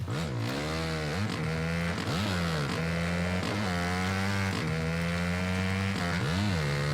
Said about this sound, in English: Let me try to make this bike skip. I'm gonna switch with the clutch.